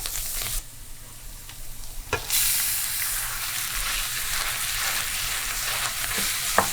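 Garlic and meat sizzle steadily in a hot pan, a continuous loud frying hiss that jumps up partway through and then holds, with no talking.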